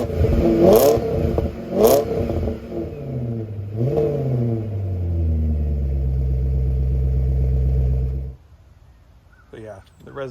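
A supercharged Range Rover with about 160,000 miles and its exhaust resonator deleted barks through two sharp revs, then climbs into a longer rev that holds loud and close before cutting off, leaving quiet.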